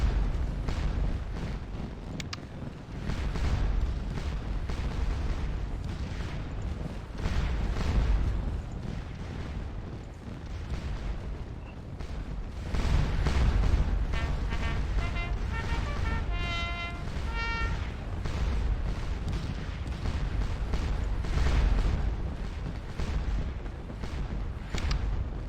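Artillery from big 8-gun batteries fires in the Scourge of War Waterloo video game. The booms are deep and continuous, rolling and overlapping one another, with crackling musketry-like pops scattered through the din.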